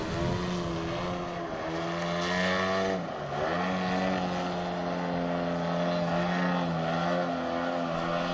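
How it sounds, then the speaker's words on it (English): A giant scale RC model plane flies at a club New Year's Day fly-in, its engine a loud, continuous droning buzz with gradual pitch shifts and a brief dip as it passes. No one speaks. "Dennis Shaver and his giant scale plane draw a lot of attention whenever they're at the field"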